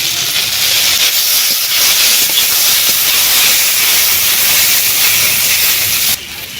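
Fish frying in mustard oil with panch phoron makes a loud, steady, close hiss that fills the whole stretch and drops slightly at the very end, with no talking.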